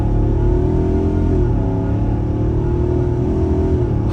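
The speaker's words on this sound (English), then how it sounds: "It's spinning, it's roasting those tires off the line, even with about half throttle." A 2024 Ford F-250 XL STX pickup with its standard engine gives a loud, steady engine roar under hard acceleration at part throttle, a constant rumbling drone with no voices.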